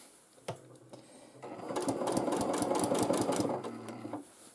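A domestic sewing machine stitches free-motion quilting lines in a loud, rapid mechanical whir. After a single click it runs steadily for about two seconds, then stops, close to the listener and with no talking.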